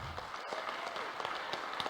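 Faint, continuous crowd applause at the PreMoney MENA 2015 investor conference: a soft wash of many hands clapping heard from a distance, with no speech over it.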